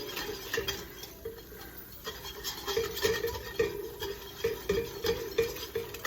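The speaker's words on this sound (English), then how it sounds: "So we're just gonna whisk it around." Whisk stirring a chicken and sausage gumbo base in a pot, rhythmic scraping and swishing strokes repeating steadily and close up.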